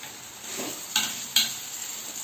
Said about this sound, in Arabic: عاد غادي نرمي الجلبانه.